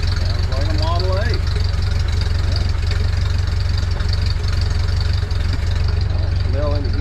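A 1931 Ford Model A sedan delivery truck idles close by with a steady, loud, low chugging rhythm that runs throughout, while a few brief voices and whistles come and go over it.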